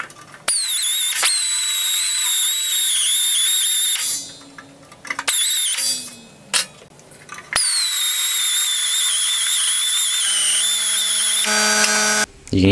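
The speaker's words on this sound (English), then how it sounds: "you just chuck one of these up in the drill and start cutting away" A power drill with a cutting bit bites into a metal Harley motorcycle fender panel, giving a loud, piercing, high-pitched squeal in several sustained bursts broken by brief pauses and stutters.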